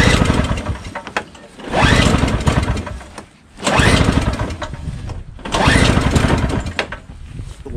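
A Tecumseh 5HP engine on a Craftsman 21-inch single-stage snowblower is pull-started three times; each pull brings a loud, close sputtering burst of firing that dies away briefly before the next attempt.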